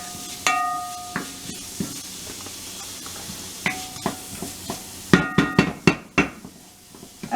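A wooden spoon knocks and scrapes inside a pot of softening onions and garlic, giving a series of sharp close taps and clatters, sparse at first then a quick cluster, over a faint kitchen hiss.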